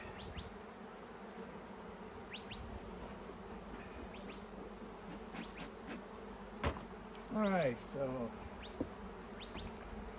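A constant hum of buzzing honeybees fills the background during a hive transfer into a Bee Castle nuc, with a few close passes and brief knocks, while someone speaks briefly.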